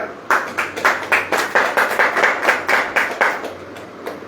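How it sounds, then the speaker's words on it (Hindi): Congregation clapping hands in unison during a Hindi church sermon, a loud, close, even rhythm of about a dozen sharp claps, evenly spaced, that slows and fades at the end. "ताली बजाओ"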